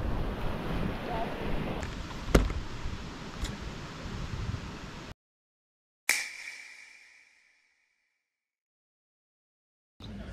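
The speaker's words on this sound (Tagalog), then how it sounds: "ngayon nandito kami ngayon sa dagat" Sea surf at a beach rolls and hisses steadily with wind buffeting the microphone, then a sudden cut to silence, a brief sharp crash of water fading out.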